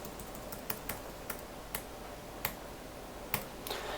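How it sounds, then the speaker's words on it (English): Keys tapped on a computer keyboard while entering an entity number, a few sparse, faint clicks at irregular intervals over a low background hiss. "Now you're going to look at the document you got from the state and just type in your entity number."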